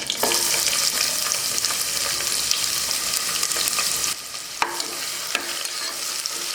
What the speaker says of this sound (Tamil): வெங்காயம் வதக்கியாச்சு.